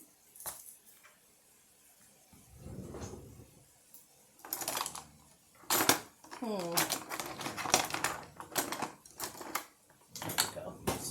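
Sharp knife chopping an onion on a cutting board in a home kitchen, with a run of crisp, fairly close taps and bursts of cutting strokes broken by pauses, and a person talking between them.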